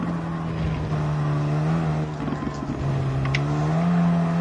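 Steady, droning race-car engine from a Group 4 car in a racing sim, holding a constant tone with slight pitch shifts and running loud and continuous throughout, with no speech.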